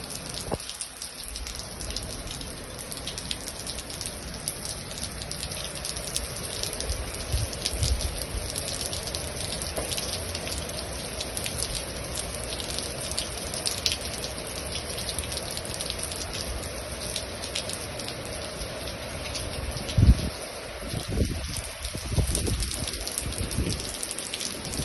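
Heavy rain pours down outside a house, a loud steady roar of falling water and splashing with occasional louder gusts and thumps, continuous throughout.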